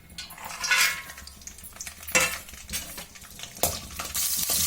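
Dry fruits frying in a spoonful of ghee in a pan, stirred with a metal spoon: uneven bursts of scraping and clinking over a soft sizzle, close by, with no voices.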